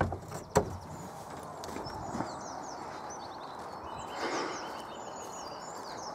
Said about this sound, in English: Birds are singing. Listen to them.